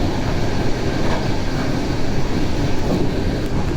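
A train rolls along the rails in Poland, heard from on board as a steady, loud rumbling roar with faint rhythmic clacks throughout.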